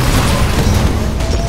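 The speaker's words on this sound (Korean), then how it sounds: "핵폭발" Nuclear explosion in Titanfall, a loud, dense, rumbling roar of blast noise that fills the whole moment with heavy low boom and crackling debris, continuous and close.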